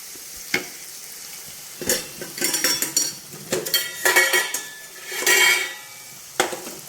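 Ginger garlic paste fries in a pan for a mango pulusu, with a soft sizzle under bursts of scraping and clinking as a spoon stirs it against the metal.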